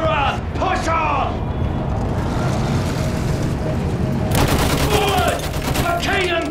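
Machine gun fire in a video game trench battle, a dense continuous rattle of shots under loud shouted voices throughout, with chaotic battlefield noise filling the scene.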